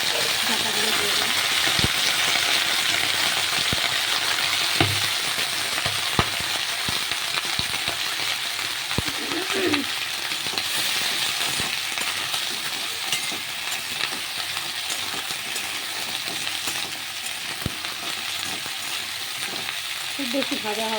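Potatoes and drumstick stems frying in mustard oil in a pan give a constant close sizzle, broken by intermittent stirring scrapes and clicks, with brief speech here and there.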